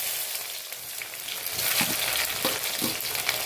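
Onion dropped into hot oil with mustard seeds and urad dal, a steady broadband sizzle that swells louder midway with a few sharp crackles and spatters, close and alone with no voices.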